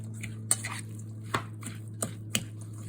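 Mexican coleslaw is stirred in a bowl, making a few faint, scattered clinks and knocks of a utensil against the dish over a low steady hum, quiet and close.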